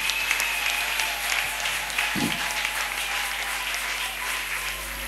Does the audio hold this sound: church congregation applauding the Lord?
yes